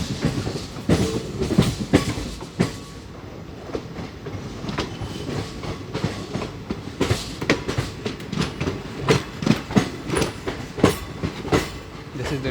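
Train rake moving on the shunting neck at Mangalore Central depot, with steady rumble and repeated clickety-clack wheel beats over rail joints, fairly close and loud, no voices.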